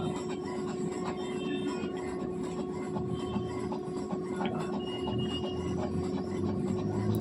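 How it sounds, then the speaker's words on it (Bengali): An HP Smart Tank 500 printer pulls paper through while making a colour copy, giving a steady mechanical whir with thin whining tones and small clicks, heard close and alone. "পেপার টানছে দেখতে পাচ্ছ পেপার টানছে"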